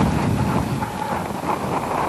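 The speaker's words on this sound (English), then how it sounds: "Gusts of wind echoing off the microphones." Gusts of wind buffet the microphones at a quiet stadium, giving a loud, continuous low rumbling roar that swells and dips for a couple of seconds with no other sounds.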